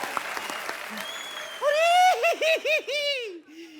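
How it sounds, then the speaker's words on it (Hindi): Studio audience applause on a Hindi comedy talk show fills the opening moments as a dense, steady wash, then a loud voice cuts in and carries over the fading clapping. "जोरदार तालियां।"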